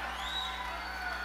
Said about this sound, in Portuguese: Cadê o aplauso de vocês pra prefeita?